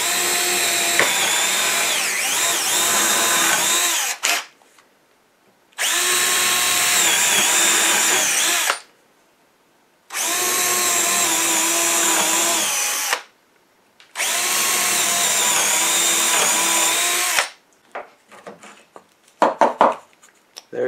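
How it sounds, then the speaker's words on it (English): A power drill bores 1/4-inch holes into a wooden bluebird house in four loud, close bursts of a few seconds each, with short silences between them and faint handling noise at the end. "I'm going to drill 4 holes right in here"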